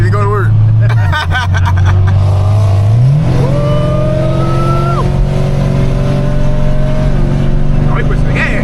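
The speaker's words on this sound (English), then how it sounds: "Oh, he pushing the gas. He's flooring it." A Chevrolet Camaro 2SS on the road is floored at full throttle, its engine rising in a long loud climbing roar through the gears, with people talking inside the car over it.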